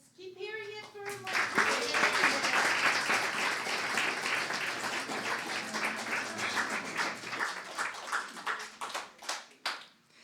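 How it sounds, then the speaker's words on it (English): Sustained audience applause at a live evening event with a speaker and musician, dense clapping swelling in early and holding steady for about ten seconds before thinning toward the end, with a brief voice at the start. "give him some more applause"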